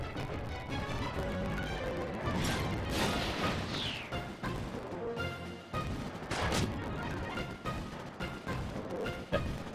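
Gunshots in the Tactics Ogre tactical video game: several sharp cracking bursts over a noisy, busy game background, fairly faint overall with no talking.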